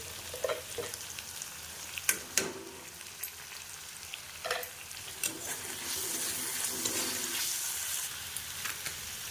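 Ginger and green chilli frying in hot oil in a pan, a close sizzle broken by several sharp spatula clacks and stirring scrapes, with the hiss building louder and denser in the latter half; no talking.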